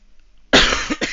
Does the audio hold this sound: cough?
yes